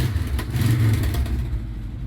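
A VW T25 camper van engine idles steadily up close with a leaking exhaust, giving a continuous low rumble with some clatter, heard alone throughout.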